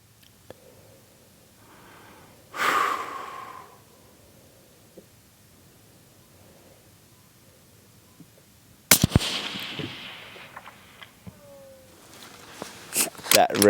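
A long-range rifle fires at a 500 target and the round ricochets downrange. Two sharp, loud blasts stand well apart against quiet outdoor air, the second followed by a trailing rumble, with voices around them.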